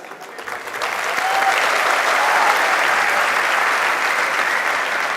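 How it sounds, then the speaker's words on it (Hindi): A large crowd of students at a motivational talk bursts into loud, sustained applause mixed with voices, swelling after the first second and holding steady throughout. "देख लो कितने सारे लोगों की आवाजें आई है।"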